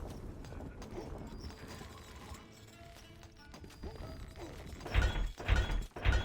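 Horse hooves clip-clop in the Stronghold Crusader strategy game on an Arab map, soft at first and then several loud, close hoofbeats near the end over game ambience.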